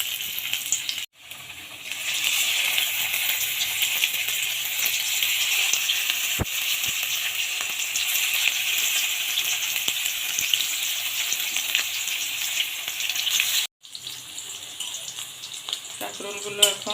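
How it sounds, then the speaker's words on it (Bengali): Pieces of spiny gourd fry in hot oil with a loud, continuous sizzle and bubbling that breaks off briefly twice, plus a few clinks of utensils. "তেল গরম হয়ে গেছে, এখন একটা একটা করে ভেজে নেব"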